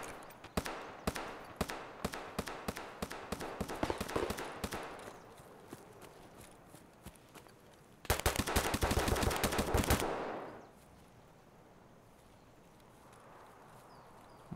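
Gunfire in Escape from Tarkov: a burst of rapid, evenly spaced shots fading slightly, a pause, then a louder, denser volley of automatic fire, followed by quieter ambience.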